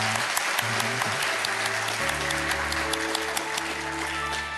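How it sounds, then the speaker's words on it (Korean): A church congregation gives loud, sustained applause to welcome new members during a Sunday service, many hands clapping together over a low, steady tonal hum in the room. "크게 박수하겠습니다"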